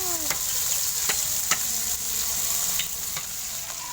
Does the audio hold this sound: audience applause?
no